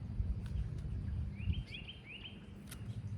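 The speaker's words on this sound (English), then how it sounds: "Listen to the birds." Small birds chirp in a sunny garden among catmint plants, a few short bright tweets and trills sounding at moderate distance over a low rumbling outdoor background, with no speech.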